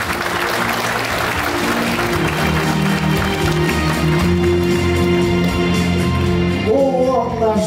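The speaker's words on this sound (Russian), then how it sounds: "Аплодисменты залу." Hall audience applauding at a 2021 housing and utilities workers' day awards ceremony in Chernushka, sustained dense clapping throughout with music playing beneath.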